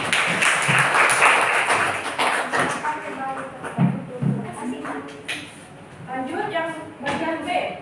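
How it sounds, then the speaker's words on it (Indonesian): Students in a classroom clap for a group after a maths presentation, a brisk round of applause over the first few seconds that tapers into scattered claps while people talk. "Kasih tepuk tangan."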